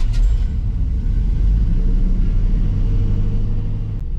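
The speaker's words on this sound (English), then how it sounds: "we'll see about starting this thing up" An old truck engine, long unused, catches and settles into a steady, heavy rumbling idle that runs loud and unbroken to the end.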